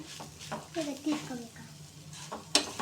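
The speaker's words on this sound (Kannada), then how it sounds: "ಚೆನ್ನಾಗಿ ಹುರಿಬೇಕು ಚೆನ್ನಾಗಿ ಹುರಿಬೇಕು" Grated coconut and salt dry-roasting in a pan, stirred with scraping and clinking strokes, with someone talking over the stirring.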